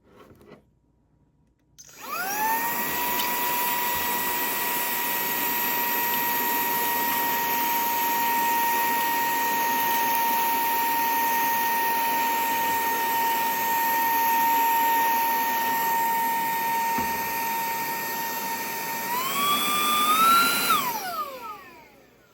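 ZARIMI handheld vacuum cleaner running with a flat suction nozzle, a steady high-pitched motor whine that starts abruptly, holds constant for about twenty seconds, then rises briefly before shutting off.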